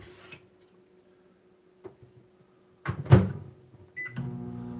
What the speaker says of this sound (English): I don't normally microwave stuff like this.